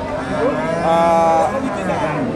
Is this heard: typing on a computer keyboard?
no